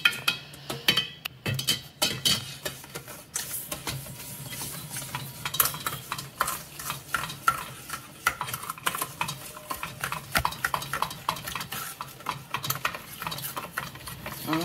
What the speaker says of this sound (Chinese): 我要把这个 sugar 跟这个 yolk 搅拌，然后我们要让它们搅拌均匀